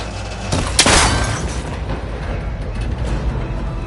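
A gunshot breaks a cable connector on a tall ancient rickety tower in a video game, a loud sharp blast with a crackling impact, followed by a lingering low rumble.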